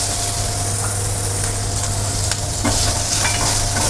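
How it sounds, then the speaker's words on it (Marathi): Chopped capsicum and onion stir-fry in a hot pan with a steady, loud sizzle and hiss. A few soft scrapes of stirring come through the frying, and no voices are heard. "आता शिमला मिर्च थोडी होईल तोपर्यंत आपण त्यामध्ये थोडं कट केलेलं कांदा टाकणार आहोत।"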